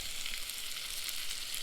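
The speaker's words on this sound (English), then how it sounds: "Trout's cooking nice and fast." Cutthroat trout frying in a hot pan, giving a steady, dense sizzle with crackling pops that runs unbroken and close throughout the short clip, with no voices.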